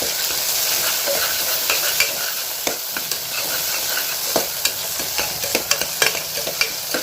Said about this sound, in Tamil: பச்சை மிளகாயும் தக்காளியும் சேர்த்து நல்லா வதக்கிக்கிறோம்